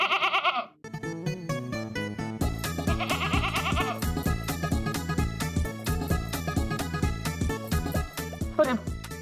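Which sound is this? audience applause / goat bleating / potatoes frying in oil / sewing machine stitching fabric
goat bleating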